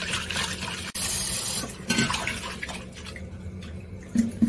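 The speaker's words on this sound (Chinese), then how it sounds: "我家阵将呢啲洗一洗先，呢啲要洗多几次佢" Pork offal, including pork tripe, is rinsed under a running tap, with a steady splash of water and occasional clinks and drips nearby.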